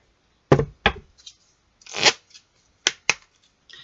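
Oracle cards shuffled for a tarot-style reading, a handful of crisp riffling and slapping bursts close up with quiet gaps between them.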